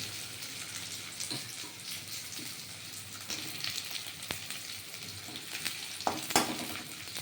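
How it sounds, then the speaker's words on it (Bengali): Potatoes and onions frying together in a pan, a steady quiet sizzle broken by occasional sharp crackles and stirring clinks, with no voices. "আলু দিয়ে ভাজা হবে আলু পেঁয়াজ একসাথে ভাজা হবে"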